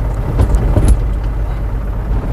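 A manual car's engine idles steadily at close range after starting, a constant low rumble with a few light rattles early on and no other sounds.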